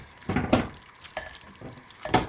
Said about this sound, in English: So I just kind of stir it up a little bit. Distribute the heat.